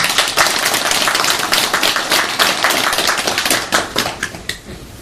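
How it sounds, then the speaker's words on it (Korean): Church congregation clapping for the Hallelujah choir at a Christmas Day service, a loud, dense burst of hand claps that thins out toward the end. "우리 할렐루야 찬양대에게 우리 한번 감사의 박수를 한번 하겠습니다"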